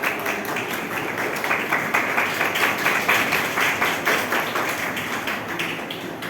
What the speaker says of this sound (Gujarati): આપની તાળીઓનો પ્રતિસાદ